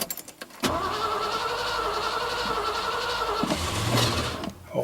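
A Ford Ranchero engine cranks briefly, then catches and runs steadily for about three seconds before stumbling and dying, loud and close with no talk over it.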